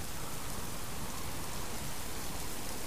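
Steady rain falls in the Subsistence survival game during night fishing, a dense, even hiss of drops that fills the whole moment without pause or speech.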